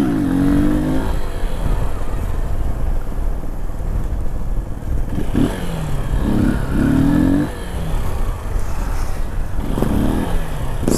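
A Honda XRE 300 motorcycle coasting down a dirt trail, its engine droning steadily with short revs rising and falling, close and loud, with wind noise around it and no talk.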